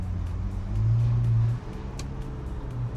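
A performance car's engine held at a loud steady rev in a shop, then dropping to a lower idle-like drone, close and with no voices.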